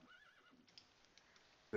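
A horse in the video game Minecraft gives a short, wavering neigh near the start, followed by faint clicks and a sudden loud thump at the end.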